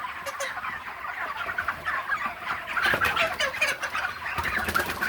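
Chickens cluck and squawk close by in short, irregular bursts, growing a little louder toward the end, with no talking.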